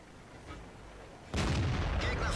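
A single tank cannon shot in World of Tanks, a sharp loud blast after a quiet stretch, followed by rumbling echo and a smaller crack of battle noise.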